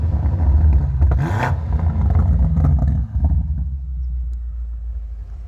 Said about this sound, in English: Let's do another rev dive, Lauren.